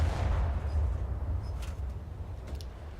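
Naval ship guns firing in War Thunder, a heavy low rumbling boom with a long decaying roar that fills the whole stretch, fairly loud and without talk.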